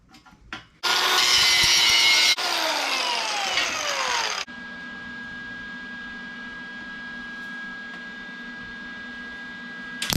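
A power tool cutting steel for a swivel campfire grill, shrill and loud for a few seconds, then changing pitch before settling into a steadier, quieter whine with a constant hum.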